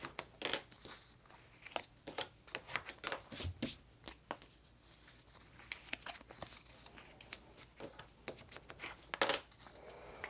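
Paper crinkles and rustles close up as a card-stock wraparound for a Christmas treat box is folded along its score lines; there are soft irregular creases and handling noises and no speech.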